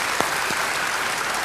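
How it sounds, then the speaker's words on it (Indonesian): Applause from a church congregation during a worship service, a steady broadband patter of clapping with a couple of brief louder bursts near the start, fairly close and filling the room. "Beri tepuk tangan yang baik buat dia."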